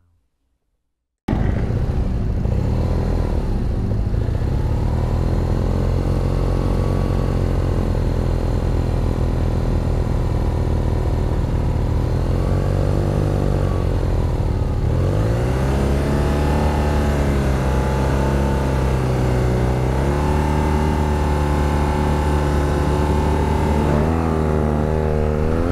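BMW R nineT motorcycle (R9T/5, 2020) roars through a drag race, its engine note climbing through gears at high, steady loudness with a shift around the midpoint.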